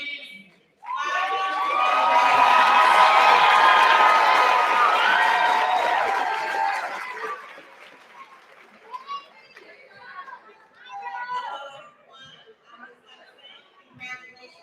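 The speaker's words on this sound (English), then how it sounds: "So let's clap it up for these 5" A high school graduation crowd erupts in loud cheering, screams and clapping for the class of 2023, sustained for several seconds before dropping to scattered shouts and chatter.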